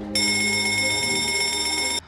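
A hotel fire alarm blares in one continuous, loud electronic ringing tone for about two seconds, starting abruptly and cutting off just as suddenly, with no voices.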